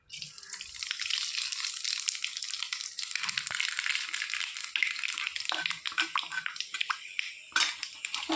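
Nigella seeds and raw sliced onions fry in hot oil in a wok, with small tengra fish cooked for a chorchori. A loud, steady sizzle hisses throughout, broken by brief crackles and scrapes, with no talking.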